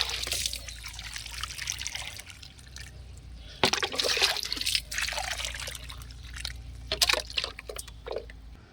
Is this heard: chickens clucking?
no